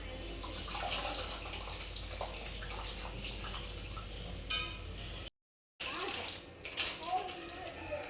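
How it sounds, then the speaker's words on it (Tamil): Tamarind water poured into a fish curry, a steady close splashing pour with light clinks, briefly cut off by a short gap before the liquid sound resumes. "இது கூடயே புளி ஊற்றிக்கலாம்"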